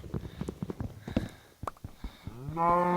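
Blocky video-game cows in Minecraft give a few short lowing moos, the clearest a drawn-out call at the end, over scattered in-game clicks and footsteps.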